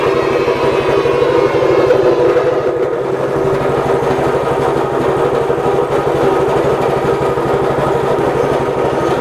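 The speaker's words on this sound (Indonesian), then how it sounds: "Mesin paling bagus nih. Senggol aja bunyi." A small engine, apparently a motorcycle, runs steadily and fairly close with a continuous low rumbling idle throughout, with no voices over it.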